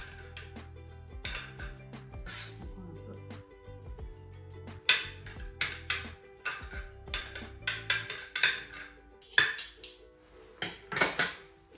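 A utensil packs mashed potato and sweet potato down into a dish, giving a run of close, irregular clinks and scrapes against the dish that grow busier and louder toward the end, with no voices.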